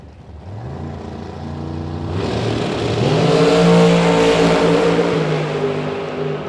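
A new dragster at a bracket drag race, Mark Kidd's car from Twin Falls, Idaho, idles with a low throbbing engine, then revs hard and launches into a loud, rising roar that stays close and dominant with no talk.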